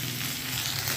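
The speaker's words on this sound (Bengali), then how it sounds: "পেঁয়াজ কলি ভাজা বসিয়েছে।" Onion stalks (peyaj koli) fry in a pan with a steady, close, crackling sizzle and no voices.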